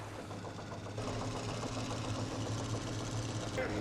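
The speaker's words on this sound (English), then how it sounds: "I don't think the engine is in a very good condition." The boat engine in Jaws runs rough, a steady low knocking drone with a mechanical rattle that stays under faint voices and background sound throughout.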